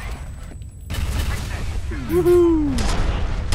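Penetrator rifle shots in the first-person shooter F.E.A.R. Extraction Point, heavy gunfire and booming impacts mixed with game effects, loud and close, with a player whooping over the din.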